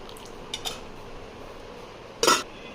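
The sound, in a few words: bowls and dishes being set down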